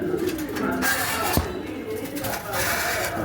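Male Tiger Beauty pigeon cooing in a short, low, soft phrase amid background noise, with faint talking nearby.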